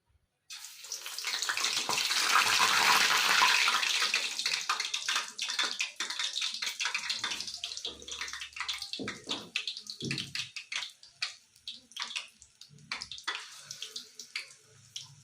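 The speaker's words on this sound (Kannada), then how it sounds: "ಈಗ ನಾನು ಬಜ್ಜಿ ಬಿಡ್ತೀನಿ. ಈಗ ಹೀರೆಕಾಯಿ ಹಾಕ್ಕೊತಾ ಇದ್ದೀನಿ ನೋಡಿ." Ridge gourd bajji fritters dropped into hot oil give a loud, steady hiss that gradually breaks up into crackling pops as the frying settles.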